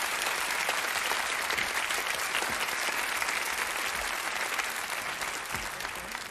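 A studio audience on a Dutch playback talent show applauds the show's winner, a Soundmix Show champion, with loud, dense, continuous clapping that holds steady and eases slightly near the end.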